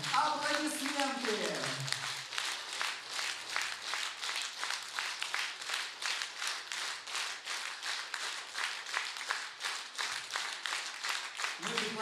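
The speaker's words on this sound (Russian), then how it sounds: "наши самые теплые, бурные, юбилейные аплодисменты!" Warm, sustained applause fills a school anniversary celebration in a hall, a dense steady patter of many hands clapping close by for the full stretch, with a brief voice at the start.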